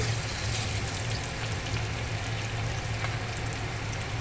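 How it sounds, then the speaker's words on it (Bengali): A small onion and a little cumin sizzle in hot oil over a medium-low flame, giving a steady, even crackling hiss that holds at close range without a break. "একটা ছোটো সাইজের পেঁয়াজ ফোড়নে দিলাম এবার দিয়ে দিচ্ছি সামান্য জিরে"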